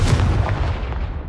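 In the Hogwarts Legacy video game, a Confringo spell explosion erupts as a loud, deep boom that rumbles and fades out over about a second.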